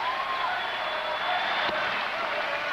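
A baseball crowd at a Rangers vs. Athletics game during a rain delay in the eighth inning cheers and claps in a steady, dense roar under a broadcaster's voice.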